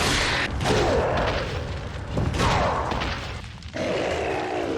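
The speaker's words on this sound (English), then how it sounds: "So let's test the unupgraded Handcannon on Betoris Mendez." Handcannon shots in Resident Evil 4 against the boss Bitores Mendez, unupgraded, with heavy booming blasts spaced a couple of seconds apart over a dense, noisy game mix.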